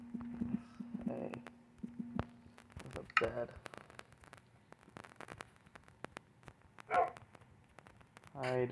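A dog in a video game gives a few scattered short barks amid footstep-like clopping and game sounds, with a person talking over it.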